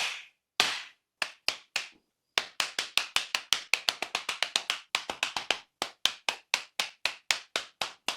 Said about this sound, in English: just take the intake side of the air filter and tap it to a surface